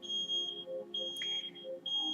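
A smoke detector beeps in a repeating high-pitched pattern, short shrill tones recurring at regular intervals, fairly faint, with an occasional brief chirp between.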